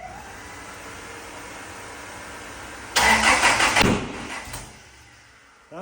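A car engine cranks and fires up, a loud rough burst that surges a couple of times with a bit of revving before settling back down to a quieter idle.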